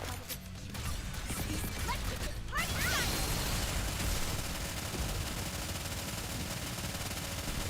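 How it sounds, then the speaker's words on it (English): Gunfire from the video game Nikke is heard, with a machine gun and a shotgun firing in dense, relentless rapid bursts mixed with impacts and mechanical clatter, loud and continuous throughout. "Machine gun plus shotgun."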